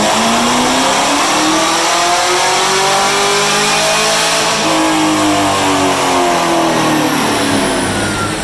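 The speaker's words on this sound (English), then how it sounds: "We're going to start dynoing it on low boost and see where it winds up." A 427ci car engine revs hard on a dyno at low boost, a loud, close roar that climbs and holds at high revs throughout.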